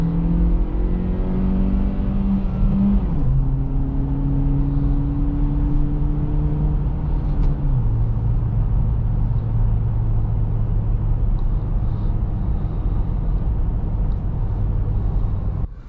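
2023 Acura Integra accelerating in comfort mode, heard from inside as a steady engine drone climbing in pitch through several gear shifts over loud road rumble, with no talk.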